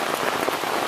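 Heavy rain pours down outside, a dense steady patter of drops on surfaces filling the whole moment at close range.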